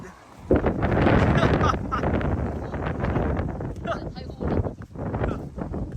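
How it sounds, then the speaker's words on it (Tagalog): Strong wind buffets the microphone in loud, rough gusts, with a person talking excitedly over the roar. "grabe yung hangin guys"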